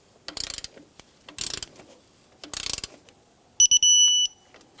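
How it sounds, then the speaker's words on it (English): Ratcheting socket wrench tightening an alternator adjusting bolt to 22 foot-pounds on a 2004-2009 Subaru Outback engine, three close bursts of rapid clicks followed by a brief high metallic beeping tone. "I'm going to torque up the alternator adjusting bolt, and that's 22 foot-pounds"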